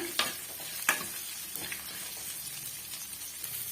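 Onion and garlic sautéing in a pan for a ridge gourd dish, giving a steady soft sizzle with a few sharper spoon scrapes near the start and scattered light crackles throughout.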